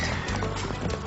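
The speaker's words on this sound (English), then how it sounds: "As the armed robbers flee, one of their horses bolts." A bolting horse from a band of fleeing armed robbers, its hooves pounding in a steady clatter with a whinny mixed in, loud and close against a busy background.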